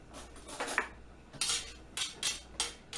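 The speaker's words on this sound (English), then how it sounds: "So we dump in our cauliflower." Steamed cauliflower florets tumble into a mixer bowl in a few quick clattering, scraping bursts of a spoon or utensil against the bowl, soft and close with no talking.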